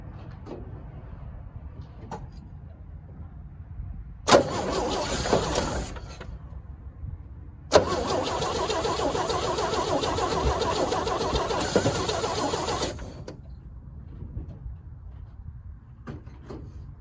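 A 1965 Chevrolet C10 short-bed pickup engine cranks and catches, running loud and close with a steady rough roar for several seconds, cutting out and firing again before settling back to quieter idle-level noise.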